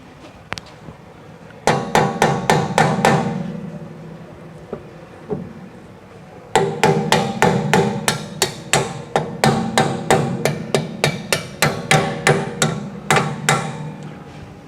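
Loud metallic hammer strikes ring out close by while fitting lowering struts on a 1979 VW Super Beetle, a short burst first, then long steady runs of evenly spaced blows with brief pauses.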